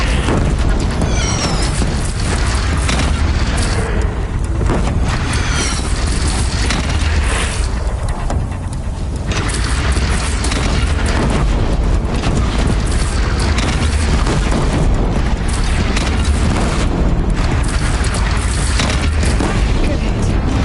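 Deathbringer machine in Horizon Zero Dawn's final battle firing explosive rounds, loud sustained booms and blasts rumbling throughout amid battle noise, with voices shouting at times over the din.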